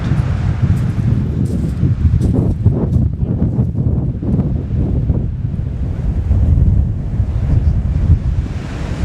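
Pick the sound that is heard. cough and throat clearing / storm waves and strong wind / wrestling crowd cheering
storm waves and strong wind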